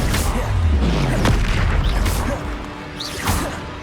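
A Confringo fire spell blasts in Hogwarts Legacy on PC, a heavy booming impact with a crashing whoosh that fades into lingering rumble, followed by a smaller second hit, loud and close amid game effects.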